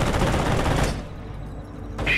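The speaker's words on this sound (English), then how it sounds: "Engineer squad under fire!" Burst of rapid gunfire during a World War II battle in the strategy game Company of Heroes, loud and dense for about a second, then a quieter lull before another sharp burst at the end.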